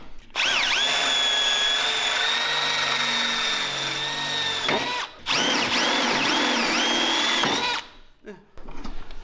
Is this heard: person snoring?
no